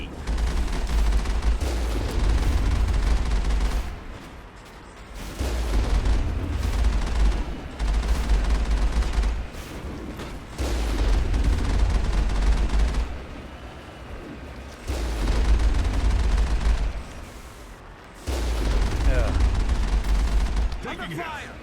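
Gunfire from combat in the video game Mass Effect, fought from the Mako vehicle: repeated bursts of shots in several long rhythmic stretches, loud and close, with a heavy low rumble and brief lulls between volleys, with no talk.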